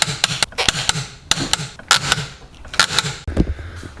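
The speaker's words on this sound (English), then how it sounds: "Don't forget to torque your wheels" Wheel nuts on a Honda Civic are tightened in a rapid series of sharp, close metallic clicks and snaps with a quick, uneven rhythm, ending in one heavier clunk.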